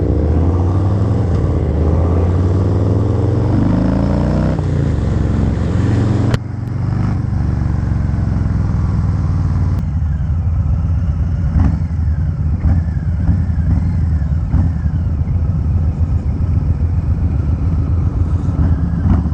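A 2019 Harley-Davidson Low Rider on a test ride, its engine a loud continuous low rumble with wind rush, rising through the gears and then settling after a brief drop partway through, with no talking.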